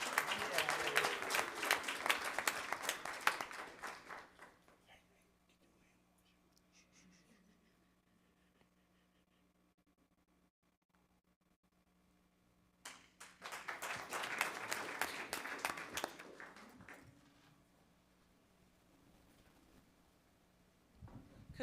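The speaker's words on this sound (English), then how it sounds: "Let's give our Stella Stingrays another round of applause." An audience at a board meeting applauds the Stella Stingrays students from Fairfield Elementary School in two bursts of steady clapping, the second starting after a quiet gap with faint room noise.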